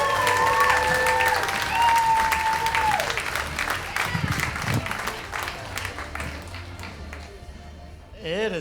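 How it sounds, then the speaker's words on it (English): Audience applauds a comedian being brought on stage at a May 2025 comedy bootcamp show, steady dense clapping with some music and cheering mixed in, fading toward the end as he reaches the microphone. "let's have a nice round of applause for Ryan Henderson."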